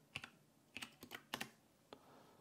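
Typing a search on a computer keyboard: short clusters of crisp key clicks in several separate bursts, close and fairly quiet, with no voices.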